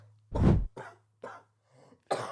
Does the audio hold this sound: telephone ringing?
no